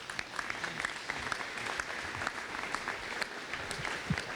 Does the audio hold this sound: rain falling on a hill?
no